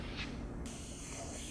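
An airbrush sprays paint splatters onto a portrait background from about ten inches back: a steady, soft hiss starts partway through and continues to the end.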